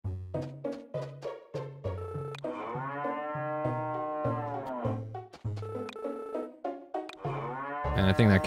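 Cattle in the farming video game Harvest Moon: Sunshine Islands, with repeated close moos in a quick rhythmic pattern and a couple of long, drawn-out bellows in between, over game music.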